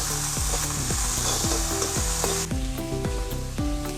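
Turmeric powder fries and is stirred in a pan while cooking a fish curry, giving a loud, continuous close sizzle over a repeating melodic pattern in the background.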